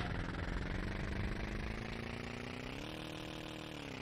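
A motorcycle engine in the video game Tomb Raider IV drones steadily, a low buzzing hum that rises slightly in pitch partway through, continuous and close without any voices.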